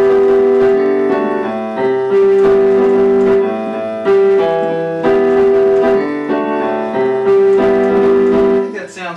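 Solo piano playing a song arranged to mimic guitar, with repeating strummed-style chords and a held high note across several bars, clear and close with no talking.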